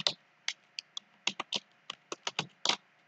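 Irregular clicking and tapping of keys on a computer keyboard during data entry, about a dozen distinct close keystrokes with uneven spacing in an otherwise quiet room.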